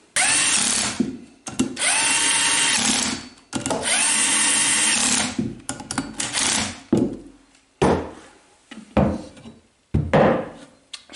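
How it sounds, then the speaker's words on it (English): Holes being drilled in beams for a beam engine build: three long, loud power-drill runs, followed by several short bursts and pauses. "I'm gonna drill 2 or 3 holes in it"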